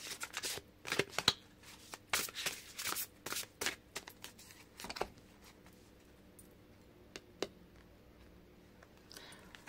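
Large tarot cards shuffled in quick riffling bursts, close and crisp, thinning out into scattered soft taps and card slaps toward the end, with no talking.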